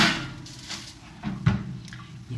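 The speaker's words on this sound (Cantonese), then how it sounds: "我將呢個盤就擺中層啦" A baking tray slides onto the middle rack of an air fryer oven while breaded pork chops are being made, giving a few soft scrapes and one firmer clunk over a low steady hum.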